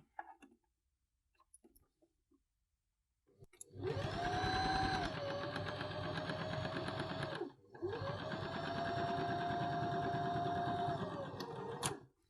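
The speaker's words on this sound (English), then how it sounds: "I'm just going to sew along that top curved seam." A sewing machine runs along a curved seam on a fabric bunny pouch, a close steady whir in two runs of about four seconds each with a short break between, after some quiet handling noises.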